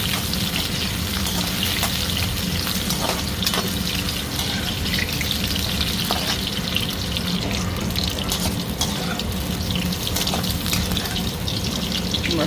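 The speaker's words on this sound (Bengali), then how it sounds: "মাশরুমগুলো আগে ভেজে নেব।" Mushrooms frying in hot oil, giving a loud, dense, continuous sizzle and crackle close by that holds steady throughout, with occasional light scrapes.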